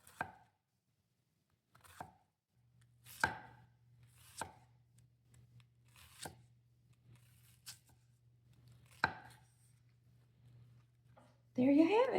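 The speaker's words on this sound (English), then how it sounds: "There you have it, minced onion." A freshly sharpened knife minces onion on a cutting board, about eight or nine crisp, separate chops at an uneven pace, close and clear over a low hum, ending in a louder scraping rustle.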